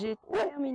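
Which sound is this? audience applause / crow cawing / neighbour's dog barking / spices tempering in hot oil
neighbour's dog barking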